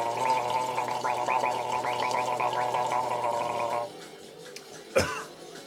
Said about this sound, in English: So you like gargling hot sauce?